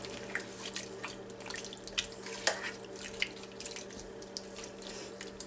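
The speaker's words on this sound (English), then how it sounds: "I'm actually going to put 2 cans of water because I really like to have my meat cooked." Water poured from cans into a cooking pot of stewing beef with onions, a soft trickling splash broken by irregular drips and plops, close and fairly quiet over a faint steady hum.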